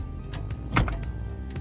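FMTV military truck's cab door pops open while the cab is being raised, a single soft thunk over a low mechanical hum, with no one talking.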